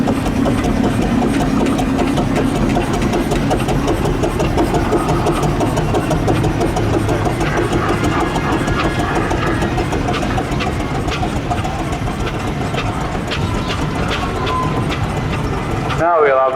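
A vintage steam road roller, built by a Reading company, runs at the Lincolnshire steam and vintage rally. It gives a continuous chuffing mechanical churn close by, under a commentator's voice over the loudspeaker.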